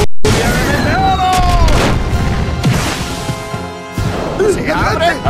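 The Meteor Shower special shot in the soccer video game Inazuma Eleven Strikers, a series of heavy booming impacts and crashes mixed with whooshing effects and game music, with excited voices shouting over it.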